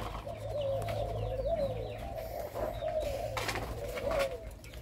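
Pet turtle doves kept in breeding pairs coo in a steady repeating rhythm, several soft rolling calls close by over a low background hum.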